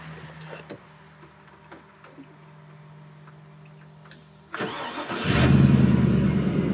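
A 5.3 liter LS V8 in a Merc custom car cranks and fires up after a quiet idle-free stretch, catching with a sudden loud rumble that settles into a steady close idle.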